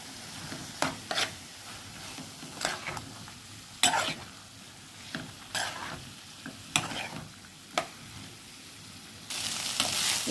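Minced meat (keema) with ground spices fries in oil, a constant sizzle broken by repeated sharp scraping stirs every second or so, growing louder and hissier at the close.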